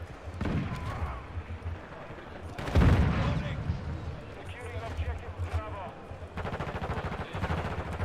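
Gunfire from the Hurricane weapon in Call of Duty: Modern Warfare 2, with bursts of rapid shots and a loud blast near the three-second mark, mixed with game noise while people talk over it.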